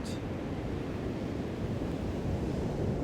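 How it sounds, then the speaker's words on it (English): Steady roar of surf breaking on the shore, a constant washing rush with wind mixed in, no voices. "when you hear the waves crashing against the shore"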